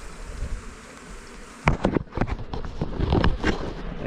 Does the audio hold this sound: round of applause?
no